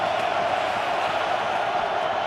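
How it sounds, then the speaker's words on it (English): A loud, dense football stadium crowd roars steadily throughout during an NFL postseason game, a sustained wash of cheering with no break. "Crowd roaring."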